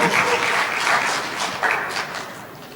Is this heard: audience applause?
yes